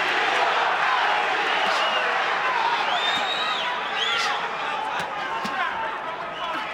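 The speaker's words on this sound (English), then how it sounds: "Crowd chanting Castillo" A boxing arena crowd roars during a fight between Diego Corrales and Jose Luis Castillo, a dense, steady wash of voices with scattered whistles and shouts rising above it.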